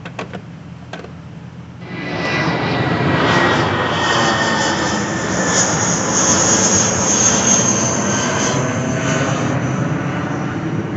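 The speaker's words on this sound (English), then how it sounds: "That was a plane taking off." An airplane takes off near an airport in an industrial area, a loud, steady jet roar that swells after a quiet start and holds close and strong throughout, with no talking.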